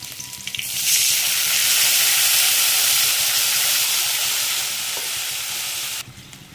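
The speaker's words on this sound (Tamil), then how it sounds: "கரைச்சி வச்சுருக்க புளி தண்ணியை ஊற்றணும்" A loud, sudden hiss as tamarind water is poured into a hot pan, a broad steaming sizzle that holds for several seconds before cutting off.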